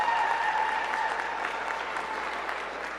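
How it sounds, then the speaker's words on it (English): Students applauding as a crowd in a school gathering, a dense, even wash of clapping that holds steady and slowly tapers, with no talk over it. "And students, let's give yourselves a big round of applause."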